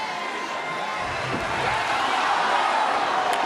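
A capacity crowd at a sold-out AEW wrestling match in Winnipeg roars and cheers in a steady, swelling wash of noise that grows slightly louder over a few seconds.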